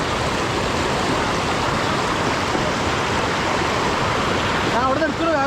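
Vayalada mini waterfall in Kozhikode, Kerala, gives off a loud, unbroken rush of falling water close by, and a brief voice-like warble rises over it near the end.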